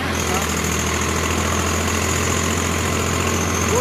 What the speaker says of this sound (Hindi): दोस्तों देख सकते हैं ट्रैक्टर थोड़ा सा आरपीएम ड्रॉप कर रहा है।